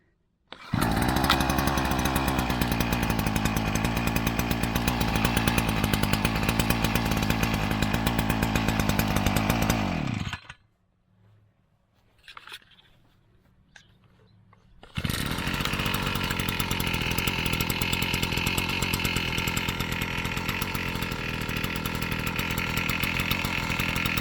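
Oleo-mac Sparta 441T and BCH400T petrol brushcutters run loudly and close, a steady buzzing engine drone. It cuts out for a few seconds of near quiet with faint sounds, then a brushcutter starts and runs hard again.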